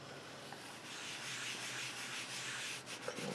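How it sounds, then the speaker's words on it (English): A rubber stamp is wiped clean with a cloth after a spritz of Stampin' Mist cleaner, giving a steady soft rubbing and scrubbing sound close up for a few seconds, with a couple of light taps near the end. "Give this a quick little wipe. Just add a tiny bit of, this is Stampin' Mist."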